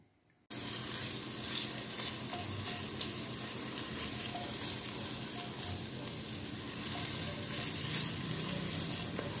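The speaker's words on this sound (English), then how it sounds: "Now the lard is coming down from solid to liquid." Solid lard melts in a pot for home-canned chili, giving a steady, close hiss of sizzling fat with faint crackles that begins abruptly and holds without talk.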